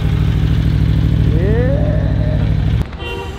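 A Yamaha R1 motorcycle with an inline-four engine runs steadily and loudly up close, holding a strong low rumble with a brief rising rev before the sound drops off abruptly near the end.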